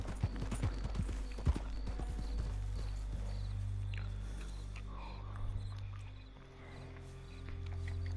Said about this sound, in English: Buell is a very good horse.